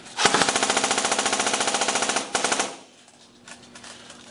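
A Lancer Tactical airsoft AEG powered by a 9.6 volt battery fires a rapid full-auto burst of about two seconds, loud and close with a fast mechanical rattle, followed by a short stutter and then quiet clicking.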